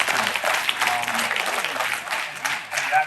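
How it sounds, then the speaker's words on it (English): High school students packed into a Japan Society exhibit hall in New York applaud together, a dense burst of clapping with voices audible beneath and behind it. "give yourselves a round of applause"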